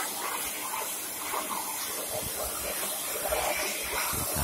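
Water sprays in a steady hiss while an air conditioner unit dripping indoors is washed down, a continuous close, bright spray without pauses.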